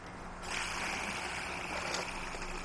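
Water gurgles and rushes continuously as a garden hose is switched on, a faint broad wash that swells after a brief quieter start and holds steady to the end.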